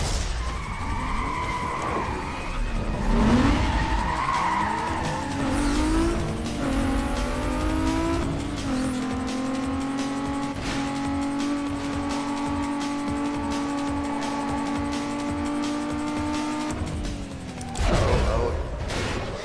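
A race car skids with squealing tires in the Need for Speed: Most Wanted video game, its engine droning loud and steady while the pitch sweeps and holds, then a short burst of noise near the end.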